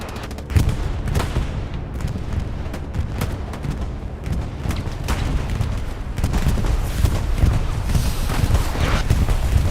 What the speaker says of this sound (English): Another bombing run from Circle on the front line.